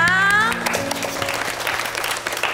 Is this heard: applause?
yes